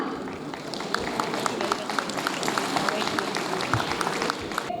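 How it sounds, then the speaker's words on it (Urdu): A crowd at an outdoor lawyers' protest rally applauds steadily, with dense continuous clapping and crowd noise throughout, while voices are heard within the din. "ان کے لیے تالیاں۔"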